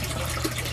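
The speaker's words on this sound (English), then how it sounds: "So that drains down here into the bottom." Steady trickle and splash of water draining down into the bottom of an aquaponics fish tank, continuous and fairly close, with no talking.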